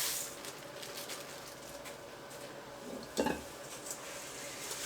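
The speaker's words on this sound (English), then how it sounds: "gently stir them in and mash them a little bit to get them in all the peanut butter cereal stuff, peanut butter cookie dough" Rice Krispies being stirred into peanut butter cookie dough, giving faint, soft scraping and crackling with one brief clink of a utensil, heard close and low without any talk.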